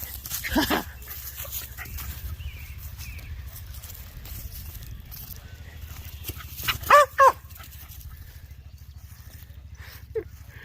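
A dog in a backyard gives a couple of quick, fairly close barks partway through, heard over steady outdoor background noise, with a fainter yelp near the end.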